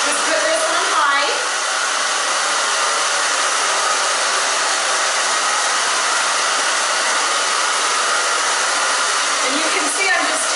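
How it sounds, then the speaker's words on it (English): A hair dryer on high setting blows hair straight, a loud, close, constant roar of air that holds steady for the whole stretch with only slight shifts as it moves. "And you can see I'm just taking from the side and drying it straight over."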